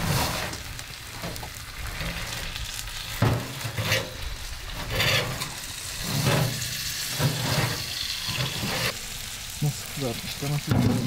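Meat sizzles and crackles as it fries in a pan on a wood stove inside a heated tent at a snowy forest camp, a steady close hiss with scraping and knocks, while people talk now and then.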